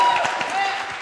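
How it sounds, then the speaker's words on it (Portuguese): Audience applause at a live Brazilian youth talk event, a short burst of dense clapping with voices mixed in beneath. "Wesley, salva de palmas aí."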